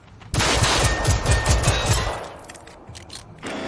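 Automatic gunfire in the video game Generation Zero, a loud close burst of rapid shots followed by a fading, rumbling tail, then quieter background game ambience.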